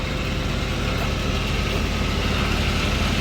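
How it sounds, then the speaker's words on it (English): A northern work truck fitted with working lights and strobes idles steadily, its low, even engine rumble continuous and close throughout with no talking. "You can hear the engine, sounds great."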